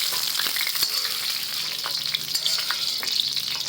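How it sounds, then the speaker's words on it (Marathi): Green chillies and garlic roasting in a hot pan, a close, loud crackling sizzle with scattered pops and stirring scrapes throughout, no one speaking. "लसणाने मिरच्या भाजून घेतल्या"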